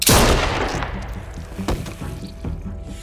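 A gunshot in The Walking Dead: A New Frontier video game, a loud sharp blast at the start followed by a decaying rumble and a few softer thuds, with no speech over it.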